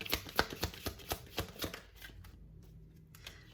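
Love oracle cards being shuffled by hand, a quick run of close, crisp riffling slaps that fades into a quieter, softer rustle toward the end.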